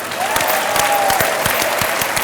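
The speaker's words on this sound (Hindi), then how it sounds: "ताली बजा दो" A studio audience on a Hindi television game show claps in a brief burst of applause, with a whistle-like tone rising over the dense clapping.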